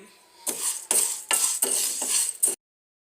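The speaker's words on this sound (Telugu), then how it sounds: "అదే ప్యాన్లో కందిపప్పు వేయించుకుందాం దూరగా" Toor dal is dry roasted in a pan, heard as a series of about five dry rattling scrapes as a spatula stirs the lentils, each burst lasting under half a second and close by, ending abruptly.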